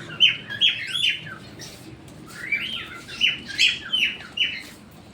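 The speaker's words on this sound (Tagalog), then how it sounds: "Daming ibon." Many birds chirp and tweet in repeated bursts, bright high calls overlapping in two busy clusters, with a pause of quieter background between them.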